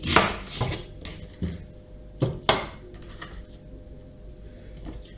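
A knife chops an onion into pieces against a cutting board in a few irregular knocks, close and crisp, with quiet pauses between them and no speech.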